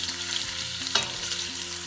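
About two tablespoons of chopped ginger fry in oil with a strong, steady sizzle and a brief spoon clink, close and unaccompanied by speech.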